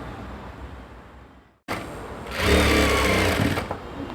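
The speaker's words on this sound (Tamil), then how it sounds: "இதே மாதிரி நம்ம வந்து பேக்கை வந்து ஸ்டிச் பண்ணி காட்டுறேன்." A sewing machine stitches a layered, ruffled lehenga skirt in a close, steady run of motor whirr that starts after a brief silence and swells louder midway.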